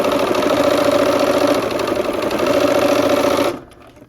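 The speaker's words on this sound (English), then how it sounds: "let's go to the machine and sew" Sewing machine stitching quilt blocks with a 1/4 inch seam, a steady close whirring drone that stops abruptly near the end.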